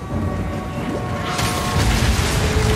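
Permafrost crossbow bolts fire in the Path of Exile 2 video game with a heavy booming, crackling impact that swells into a dense, roaring icy burst midway through, loud and continuous.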